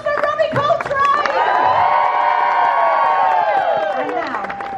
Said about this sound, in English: Applause for Robbie Coltrane!